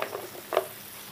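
Spiced food sizzling and being stirred in a pan, a soft crackling sizzle with a brief louder scrape of stirring midway, close and fairly quiet.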